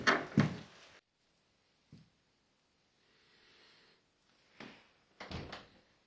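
A door in an abandoned village house in Asturias is opened, heard as a loud creak and thump, a brief knock, then a faint scrape and several more close clunks and rattles.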